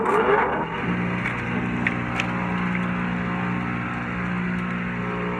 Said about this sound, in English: I got a wood chipper to chip wood